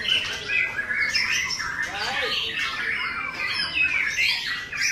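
A white-rumped shama (murai batu) at a bird song contest sings a loud, varied run of bright whistles, chirps and squawking phrases, close and continuous with other birds and crowd noise behind it.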